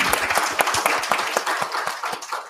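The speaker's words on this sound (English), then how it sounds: "One more round of applause for our speakers." Conference audience applauds the speakers at the close of a museum collections session, a lively close burst of many hands clapping with distinct individual claps.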